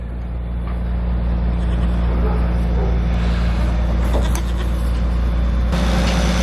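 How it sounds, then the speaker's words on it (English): A farm tractor idles nearby while running a big yellow TMR feed mixer on a goat farm, a loud steady low engine drone with a constant rumble and some clanking. "You can hear the tractor behind me."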